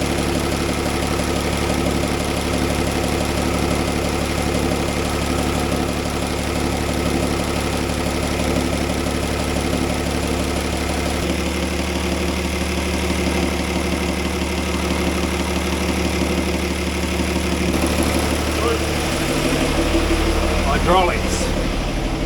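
An engine runs steadily at idle throughout, a continuous close mechanical drone with a light knocking texture, the level holding even from start to finish.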